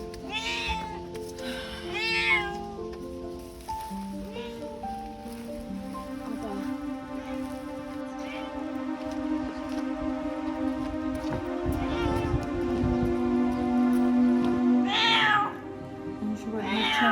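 A starving, disabled cat left alone in a field meows loudly and repeatedly, close up, with strained drawn-out cries, then a steady purr-like drone under rustling.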